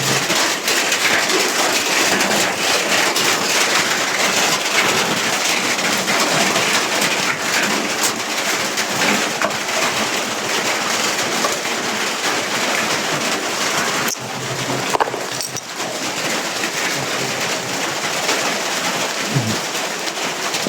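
Heavy rain pours down steadily in Davao de Oro, Mindanao, a dense, loud roar of drops hitting surfaces without pause.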